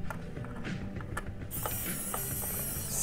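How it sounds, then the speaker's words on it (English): A Xiaomi WowStick 1F+ electric screwdriver unscrews tiny screws, giving a quiet ratcheting whir with small clicks, then a higher steady motor whine in the second half. "we are going to hit this button and unscrew the screws"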